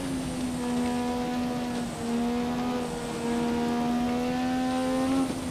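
A turbocharged Formula 1 car engine in the racing game F1 2017 at Spa-Francorchamps drones steadily at fairly quiet level, its pitch holding, dipping briefly and climbing again with the throttle.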